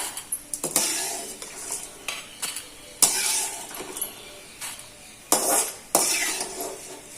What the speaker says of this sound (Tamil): இந்த எண்ணெயில் பரண்டை வதக்கிக்கலாங்க